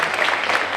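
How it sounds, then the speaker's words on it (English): Brief burst of dense, steady applause from a festival crowd at an official opening, clapping for volunteers. "How about a big round of applause for all the volunteers?"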